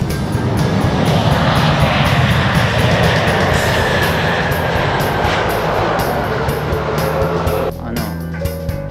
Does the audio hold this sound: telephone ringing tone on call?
no